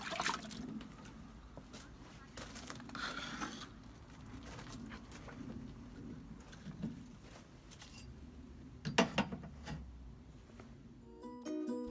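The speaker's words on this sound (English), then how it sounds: "give them a slosh in some clean water." Wooden beehive brood and super frames are swished and sloshed in a tub of clean rinse water, giving irregular splashing and trickling sounds close by, with a louder burst of splashing toward the end.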